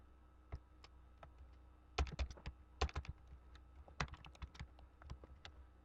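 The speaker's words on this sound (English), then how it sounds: "You just type it in." Keys tapped on a computer keyboard while entering a picture caption, in short irregular bursts of quiet clicks with pauses between, close and fairly soft, with no talking.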